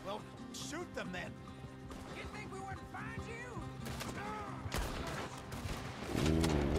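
Gunshots from a Red Dead Redemption 2 shootout, a few sharp reports with horses nearby, heard under continuous talking and game sounds.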